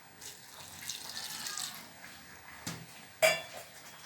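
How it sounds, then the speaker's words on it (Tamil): Water poured into cabbage kootu in a pressure cooker, a soft splashing trickle over about two seconds, followed by a couple of sharp metallic clinks of utensils against the cooker. "இது கூடவே 1/4 டம்ளர் அளவுக்கு தண்ணியும் சேர்த்துட்றேன்."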